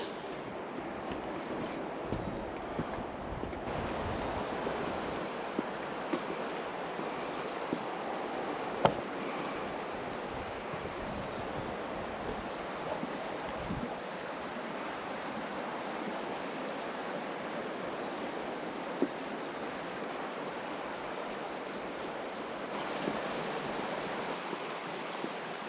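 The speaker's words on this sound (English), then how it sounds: "There's the waterfall we're hearing right back over there." A distant waterfall heard from a campsite, a steady broadband rush that stays even throughout with a few faint knocks and no talking.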